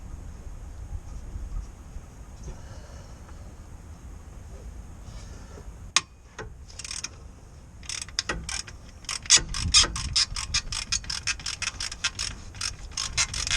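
A ratchet undoes a 14mm bolt on the transfer box mount of a Mitsubishi L200, starting with a sharp clank and then a steady run of rapid, close clicking strokes against quiet workshop background noise.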